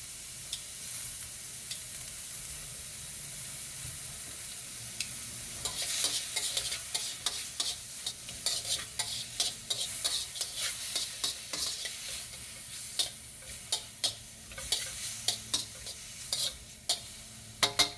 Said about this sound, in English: But you want to brown your meat.